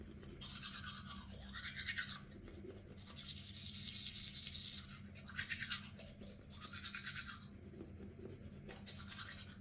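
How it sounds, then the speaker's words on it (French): Teeth brushed with a toothbrush, close rhythmic scrubbing strokes in repeated bursts with brief pauses, quiet and alone without speech. "Vous mettez un coup de brosse à dents pour enlever les bactéries que vous avez aussi sur les dents."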